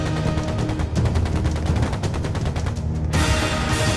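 Sustained gunfire during a battle cutscene in the game Trails into Reverie, a dense, continuous rattle of rapid shots that stays loud and unbroken throughout, heard without speech.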